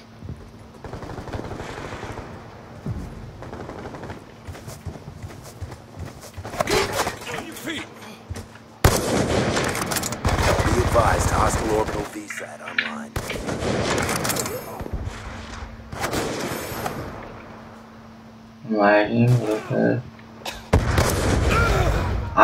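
Gunfire in Black Ops 2 comes as bursts of machine-gun fire and single shots, some loud and close, others farther off, with booming impacts between them and voices talking over the fighting.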